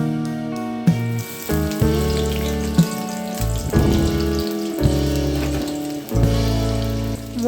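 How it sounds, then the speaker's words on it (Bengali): Radish greens frying in oil in a wok with onion and garlic, a continuous loud sizzle with stirring clatter and scraping of the pan throughout, close up and without talk. "এখানে পেঁয়াজ রসুন দিয়ে আমি"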